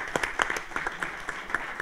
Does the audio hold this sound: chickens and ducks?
no